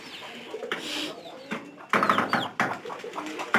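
Pigeons with young birds kept at home coo in short soft bursts, several calls overlapping at close range alongside faint rustling and flutters.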